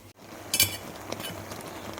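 Banana leaf halwa is stirred in a pan, giving a few close metallic clinks and scrapes of a spoon against the pan, with one brighter clatter early on and softer knocks after.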